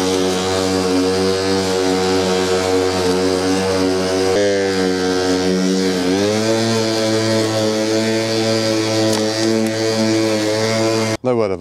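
A Milwaukee 21-inch lawn mower runs steadily throughout with a loud, continuous motor drone, its pitch shifting slightly partway through before it cuts off abruptly at the very end.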